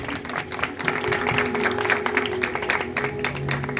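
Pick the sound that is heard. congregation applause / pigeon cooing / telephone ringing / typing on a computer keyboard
congregation applause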